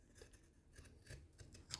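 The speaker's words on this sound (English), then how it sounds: "when you're cutting a curve, you open the mouth of the scissors, but you're turning at the same time that you're cutting" Scissors snip through fabric along a curved neckline in a few soft, quiet, close cuts, with no talking.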